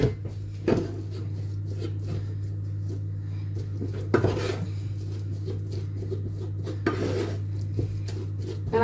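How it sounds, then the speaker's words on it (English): Boiled potatoes are mashed with melted butter in a pot for Irish apple and potato cake, making soft, repeated thuds and a few sharper metal clanks against the pot over a low steady hum. "I'm going to add that to my potatoes and then make a mash"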